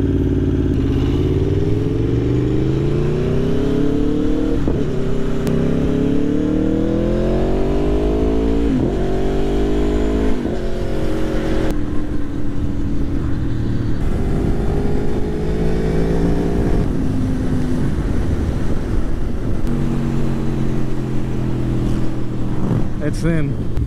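An Aprilia Tuono V4 motorcycle engine roars while being ridden, loud and close, with the revs climbing and falling through repeated gear changes and steady wind noise over the whole stretch.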